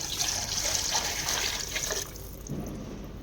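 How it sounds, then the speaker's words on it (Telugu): Water pours into a pot for Gongura mutton and chicken dum biryani, a continuous splashing stream that shifts to a lower, settling slosh toward the end. "ఇంకా ఇవి వేగినాక ఇంకా ఇందులోకి మనం నీళ్లు పోసుకోవాలి"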